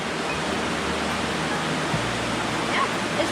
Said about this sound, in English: How do you like this waterfall?